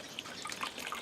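Hot water trickles and drips over the bashed-in foam nose of a Durafly Tundra model plane during a repair, a soft steady patter of small splashes close by with no talk.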